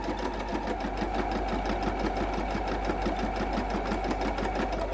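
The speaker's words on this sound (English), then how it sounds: "and I'm just going to stitch down" A sewing machine hums continuously up close while stitching down quilt binding, its rapid, even needle chatter running without a break for the whole stretch.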